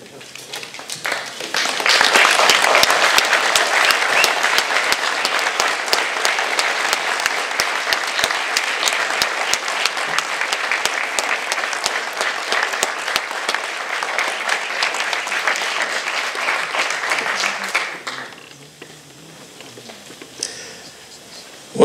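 A crowd at a veterans recognition ceremony breaks into loud, sustained applause that swells quickly and holds for about fifteen seconds before fading to a quiet room.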